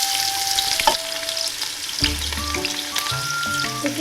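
Onions sizzle and crackle in hot oil at the start of cooking aloo baingan, with a few clinks and stirring sounds over the steady frying hiss.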